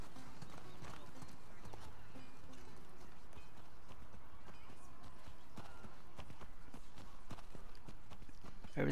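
Horse hooves clip-clop steadily in The Last of Us Part II, a regular walking rhythm that runs throughout under quiet ambient game sound, with a faint neigh.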